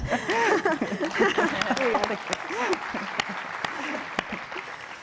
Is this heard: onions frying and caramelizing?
no